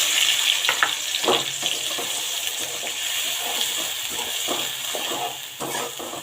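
Ground spices dropped into hot oil with browned onions for a rohu fish curry with ridge gourd, giving a steady soft sizzle with scattered stirring clicks and scrapes, close and moderately quiet.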